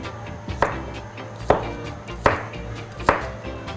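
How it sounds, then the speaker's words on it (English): Garlic is chopped with a knife on a board for a vegetable lo mein, four crisp, close chops arriving at an uneven pace over a low background hum. "chop a few pieces of garlic"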